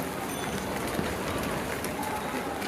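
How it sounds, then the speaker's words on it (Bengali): Rain keeps falling on a flooded street, a broad, even wash of noise that stays constant and fairly close throughout. "এই ভিডিও দেখে যা বুঝতেছেন বৃষ্টি এখনো হচ্ছে।"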